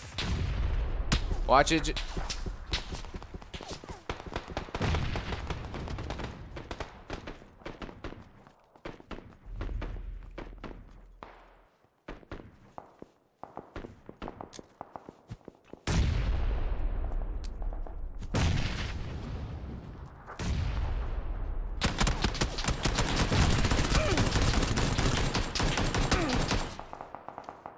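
Gunshots in PlayerUnknown's Battlegrounds on Xbox One, with bursts of loud, cracking fire and booming impacts scattered through the stretch, alternating with quieter gaps while players talk.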